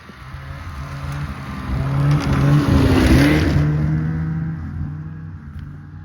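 Car driving past on a road beside a forest mountain trail, engine swelling from a distant hum to a loud close pass midway with a slight pitch drop, then fading away, with no talking.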